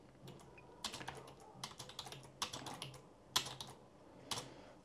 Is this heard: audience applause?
no